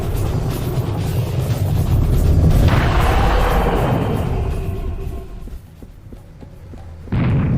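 A loud explosion in the shooter game Serious Sam: The First Encounter, with a heavy boom and a long rumbling decay, then another sharp burst near the end.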